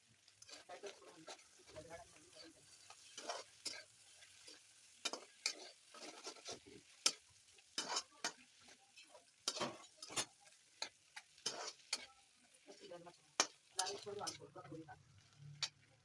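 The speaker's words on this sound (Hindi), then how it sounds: "आलू बॉयल किए मैंने और गर्म तेल में छींटे मारा है" Boiled potatoes fry and sizzle in hot oil, with repeated sharp clicks of a spoon stirring against the pan and a quiet, steady crackle underneath.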